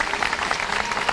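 Applause at a press conference in Venezuela: brisk, dense clapping from a crowded room, steady and fairly loud for about a second with no talk over it.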